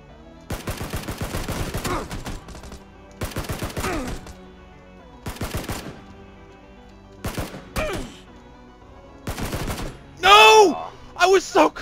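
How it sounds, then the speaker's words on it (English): Automatic gunfire in PlayerUnknown's Battlegrounds rattles in several loud, rapid bursts separated by short pauses, with a sharper burst near the end and a brief voice over the last shots. "Good shots, but..."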